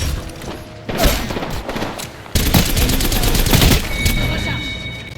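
Bursts of rapid automatic gunfire in a video game, loud and close, arriving in two long dense volleys with a brief lull between them and a softer mechanical rattle underneath.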